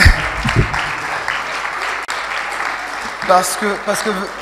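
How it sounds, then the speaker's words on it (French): Applause at a debate event after two debaters are asked to stand, clapping fading under a voice speaking near the end. "un standing ovation pour nos deux débatteurs. S'il vous plaît, levez-vous et applaudissez-les"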